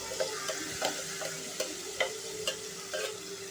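Onion, tomato, ginger, garlic and green chilli gravy stirred into frying masala for matar paneer, a soft sizzle under a steady background with regular ladle taps against the pan about every half second, close.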